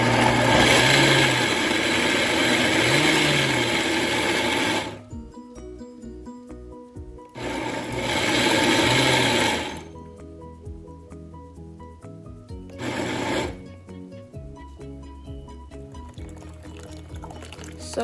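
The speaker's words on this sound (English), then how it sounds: "Add cold water to it and blend for 15 seconds." A blender whirs loudly as it blends beans with cold water for moi moi, running in bursts with pauses between, the motor noise steady and close with no talk over it.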